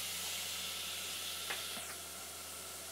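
Pork sizzles in a pan with garlic and a little oil for a Japanese curry, a steady broadband hiss running throughout with a couple of brief spatters near the middle.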